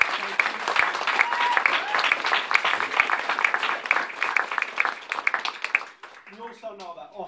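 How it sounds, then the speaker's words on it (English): Audience applause at an annual celebration event, steady dense clapping for about six seconds, then tapering off as a voice begins. "So if we can just give a collective round of applause for them."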